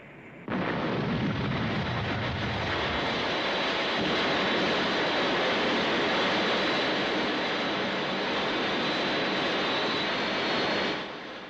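A fictional aircraft's engine roars in flight in a Thunderbirds episode, "Edge of Impact". A loud, dense, rushing drone cuts in abruptly, holds steady for about ten seconds, then stops, with no speech.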